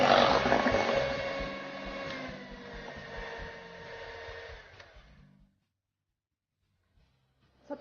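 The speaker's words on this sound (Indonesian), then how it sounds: "Dikocok dengan kecepatan tinggi ya, supaya cepat mengembang." An electric mixer whisks kue putu ayu batter at high speed, a loud whirring buzz that runs steadily for about five seconds before switching off into silence, followed by a faint knock at the end.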